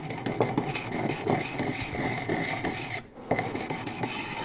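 Steady, gritty rasping of S30V steel knife blade being sharpened on an abrasive to raise a burr, continuous close-up strokes with one brief pause near the end.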